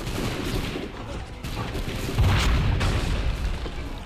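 A musket-style gunshot in Assassin's Creed III booms out during a battle against redcoats, one heavy low blast rising over dense, continuous battlefield noise and faint distant shouting.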